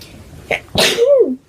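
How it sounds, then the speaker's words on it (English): A single loud, close sneeze: a sharp intake of breath followed by an explosive burst and a trailing voiced tail. "I need to sneeze."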